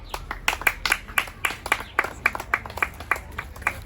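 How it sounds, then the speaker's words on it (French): An audience at an NGO gift-giving ceremony in Africa claps in a quick, steady rhythm of sharp, close hand claps, with no talking over it. "On acclame quand je donne le cadeau."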